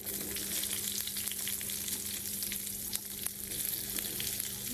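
Spices crackle and sizzle in hot oil, a steady close hiss dotted with sharp little pops, no voices.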